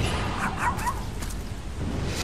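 Puppies in the video game Tokyo Jungle give a few yips, barks and whimpers close by, over a low background hum, with no talk.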